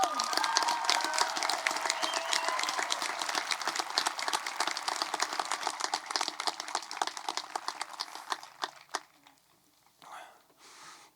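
An audience at the Vista Del Lago High School class of 2021 graduation applauds in a dense, sustained burst of clapping that thins out after about eight seconds into a few scattered claps and near quiet.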